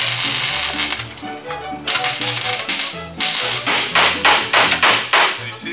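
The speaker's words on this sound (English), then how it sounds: "I'm going to go ahead and hammer the edge so it meets all the rest" Hammer strikes on the edge of a crushed sheet-metal box during rust repair on a 1969 Volkswagen Karmann Ghia, a loud close run of rapid metallic blows in bursts, ringing, with brief pauses between volleys.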